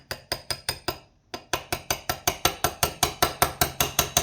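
A 9/16 socket is tapped into place with a series of sharp, evenly spaced metallic knocks, about four strikes, a short pause, then a longer steady run of repeated taps, close and crisp, during assembly of a Binford Bad Boy.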